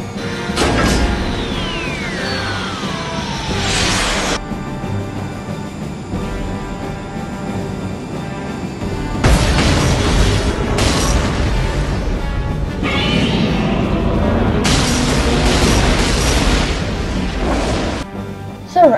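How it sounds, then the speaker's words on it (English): Missiles launch and explode against Godzilla in a 2019 sci-fi monster film, with loud sustained booms and rumbling blasts, a descending whistle early on, and heavy bursts of explosions returning midway. "Missiles away."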